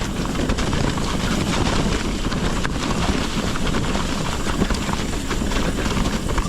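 A Specialized Turbo Levo SL mountain bike rolls fast over a rock garden on a trail, making dense, continuous rattling and clattering with wind rush on the microphone. No voices are heard.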